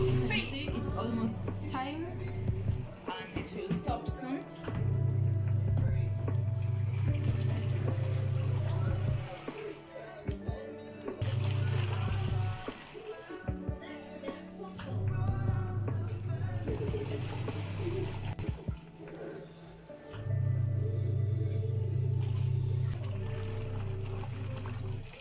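A twin tub semi-automatic washing machine washes a load, its motor humming steadily in repeated agitation bursts separated by brief pauses, with water sloshing throughout.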